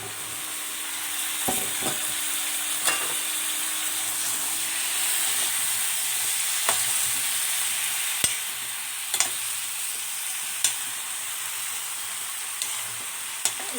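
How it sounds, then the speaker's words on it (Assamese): Bottle gourd sizzles in a hot pan with a steady, hissing fry, broken by sharp periodic taps and scrapes of a spoon stirring it, close up and continuous, with no talking. "অলপ টাইমৰ কাৰণে ভাজি ল'ব লাগিব।"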